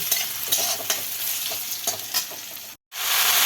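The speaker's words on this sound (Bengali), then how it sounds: "এখন ওই তেলের উপরে একটু রসুন দিয়ে দেব। একটু রসুন থেতো করে দিয়ে ভালো করে এগুলিকে নাড়াচাড়া করে নেব।" Crushed garlic frying in hot oil while being stirred, a steady close sizzle broken by scraping stir strokes, with a brief silent gap near the end before the sizzle resumes.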